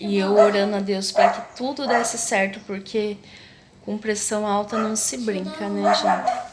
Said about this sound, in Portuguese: é que o cachorrinho tá lá embaixo latindo.